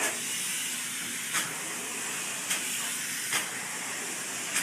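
Spray foam insulation hisses steadily from a gun onto walls during a home renovation, a continuous loud spray broken by brief sharper bursts at regular intervals, with no talking.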